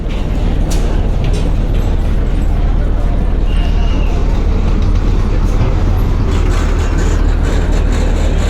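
The M Khan 7 passenger launch reverses away from Barishal, a loud, continuous deep engine rumble that holds steady throughout with faint higher hiss over it.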